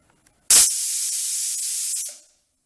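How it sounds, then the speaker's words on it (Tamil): A single sharp burst of steam from a pressure cooker whistle hisses loudly for under two seconds, starting abruptly and trailing off, with nothing else around it. "ரெண்டு விசில் வைப்போம்."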